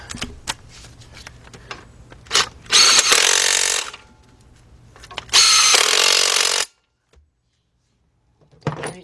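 A power tool drives 17mm bolts on the 2.7-litre engine of a 2006 Kia Sportage, two loud sustained whirring bursts with clicks and clanks of handling between them, close up.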